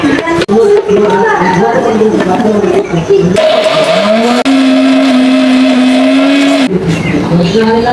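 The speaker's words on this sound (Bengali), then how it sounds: "এবার আমি মিক্সচারে একটা মিহি পেস্ট বানিয়ে নেব" A mixer grinder whirs steadily, grinding jackfruit seeds into a fine paste in a home kitchen, loud and sustained with a rising motor pitch, starting and stopping between short bursts.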